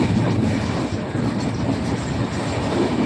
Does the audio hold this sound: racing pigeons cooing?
no